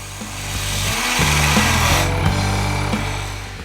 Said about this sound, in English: I'm now removing excess material from both ends of the rolling pin.